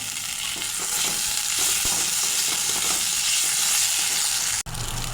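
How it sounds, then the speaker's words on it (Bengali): Fried potatoes tumble into sizzling spice masala for a Bengali fish-head muri ghonto with eggplant, a loud, steady, close frying hiss that runs throughout, with one brief dropout near the end and no talking. "মশলা কষানো হয়ে গেছে আর কাঁচা গন্ধটাও চলে গেছে এখন ভেজে রাখা আলু দিয়ে দেবো আলুটা"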